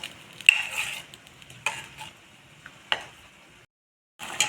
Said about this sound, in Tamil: பாருங்கள் நல்லா கொதிச்சாச்சு இந்த அளவுக்கு நல்லா கொதித்து இந்த மாதிரி நிறம் வந்தால் முடிஞ்சிருச்சுன்னு அர்த்தம்